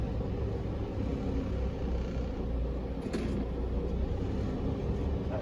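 A double road train truck backing up, its engine a steady low rumble throughout, fairly distant and unbroken, with no voices.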